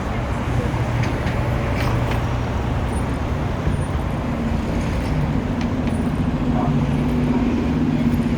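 A CTA city bus drones past on Michigan Avenue in downtown Chicago, its engine a steady low hum within continuous street traffic noise, with talking heard over it.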